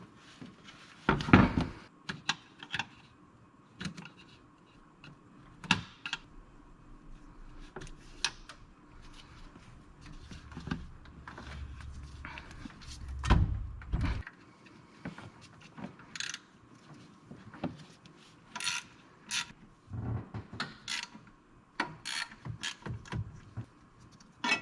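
Wrenching and clanking while an alternator is removed from a 6.7 Cummins diesel engine, scattered metallic ticks, ratchet clicks and knocks at irregular intervals, fairly close and quiet, no speech.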